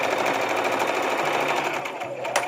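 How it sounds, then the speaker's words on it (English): A sewing machine stitches a seat cover, including a short back stitch, with a steady, close, fast mechanical whirr running continuously and ending in a brief change of rhythm. "Make sure your tail is under the presser foot because you don't want to have to like redo it again. And I do a back stitch at the beginning as well."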